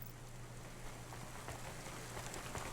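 Steady rain falls in the Cloudpunk video game, a dense, even patter of drops spread across the whole stretch, alone and without voices, under a faint constant low hum.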